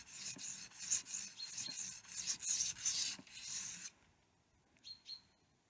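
A knife blade is sharpened on a whetstone, a steady series of close, rasping strokes scraping back and forth for about four seconds, then a quiet pause with a couple of faint chirps.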